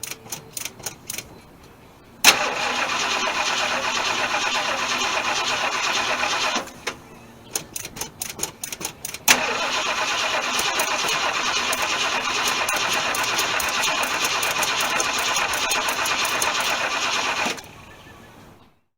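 A 1976 Ford LTD V8 cranks briefly, catches and runs loudly and steadily for about fifteen seconds, with a pause and a few stuttering restart attempts midway before it shuts off.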